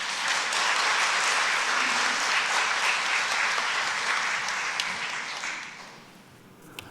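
A church congregation at a Sunday praise service gives a missionary a warm welcome with loud, steady applause that holds for several seconds, then thins and fades out toward the end.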